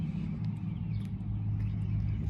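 A loud truck pulls away nearby in an alley, a steady low engine rumble with road noise running throughout, no talk.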